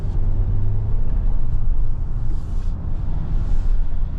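A Hyundai Staria Lounge Hybrid people mover gathers speed on a road, its low, even rumble of engine and tyre noise sustained loudly and close throughout with no talking.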